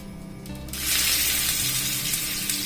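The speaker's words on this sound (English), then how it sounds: "we are going to sear it until golden brown." Baby back ribs hit a very hot frying pan with olive oil and burst into a loud, steady sizzle that continues without pause, close up.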